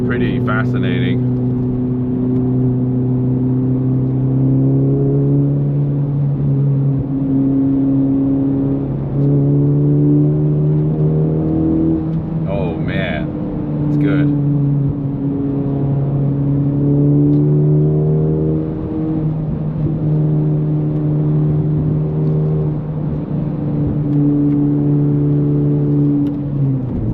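A Honda Civic FL5 fitted with an AWE Touring exhaust and PRL stage 1 intake drones steadily from inside the cabin on wet roads, with a brief rise in revs during a downshift midway through.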